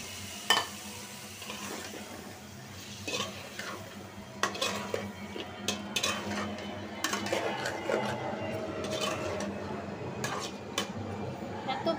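Pointed gourd and potato pieces tumble into a pan of cooked-down spices, setting off a steady sizzle with scattered clinks and scrapes of a spoon stirring against the metal pan.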